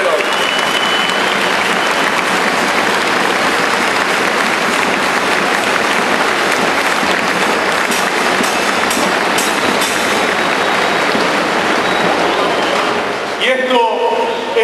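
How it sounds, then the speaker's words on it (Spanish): A large crowd at a union youth event applauds loudly and steadily for over ten seconds, then the clapping thins out as a voice begins over it near the end. "Esto también merece un aplauso de todos nosotros"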